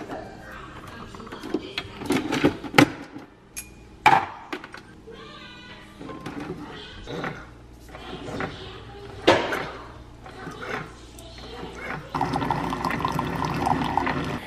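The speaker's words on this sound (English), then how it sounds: "I'm just gonna make myself some coffee to start off with my little Keurig machine." A small Keurig coffee machine brews a cup with intermittent mechanical whirring, pumping and the trickle of liquid pouring, broken by louder clunks and handling noises close by.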